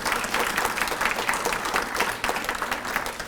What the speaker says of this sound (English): I just think we need to give him another round of applause